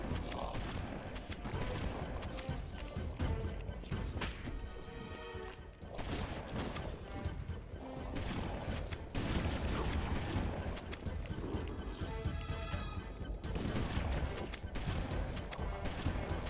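Shotgun blasts and combat noise in Halo: Combat Evolved, a dense, loud stretch of repeated gunfire and game effects with someone talking over the action.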